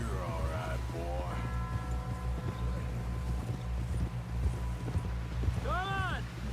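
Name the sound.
horse hooves clip-clopping, video game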